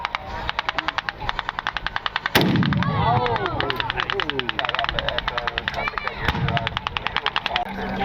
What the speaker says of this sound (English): 3 North American Mustangs, each with 650 to strafe the area.